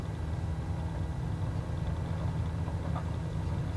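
A light aircraft engine at full throttle in Microsoft Flight Simulator 2020, a steady, loud, continuous low drone that holds unchanged throughout.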